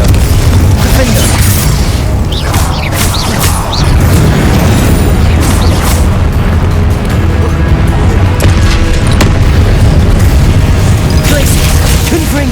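Repeated Confringo fire-spell explosions in the Hogwarts Legacy video game, a dense run of booming blasts and bursts over a constant loud rumble of combat, with a voice calling out spell names now and then.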